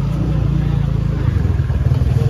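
Motorcycle engines rumble and idle close by on Koh Larn island in Thailand, a steady low throbbing with a slight rev rising near the end, no talk.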